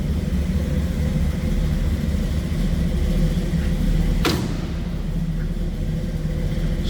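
A 1937 Ford street rod convertible runs at a steady idle after a cold start, a close, deep rumbling drone broken once by a sharp click partway through, with no talk.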